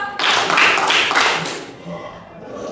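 A group of people clap their hands together in a dense, brisk burst that starts suddenly and fades out after about two seconds, with no one speaking over it.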